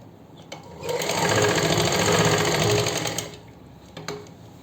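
A sewing machine stitches fabric onto kameez slits, running in one steady, loud, close burst of about two and a half seconds, with faint clicks before and after.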